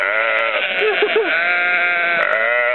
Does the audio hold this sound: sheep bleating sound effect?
yes